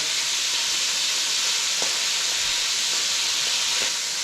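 Korma ingredients sizzle steadily in a frying pan, a continuous close, loud hiss of hot oil with a few faint clicks of stirring and no talk.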